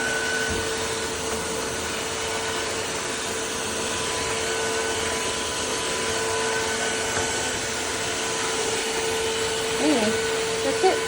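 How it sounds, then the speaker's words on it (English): Tineco iFLOOR 3 Breeze cordless wet dry vacuum running over a floor with a steady close whine and hum, holding constant throughout with a faint voice beneath it. "I got the Tineco wet dry vacuum"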